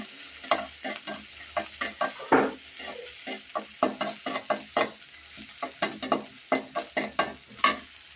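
Chilli paste fries and is stirred in a pan for a rural Bengali rui fish curry, a run of sharp scraping stir strokes over a low steady sizzle, close and fairly loud with no talking.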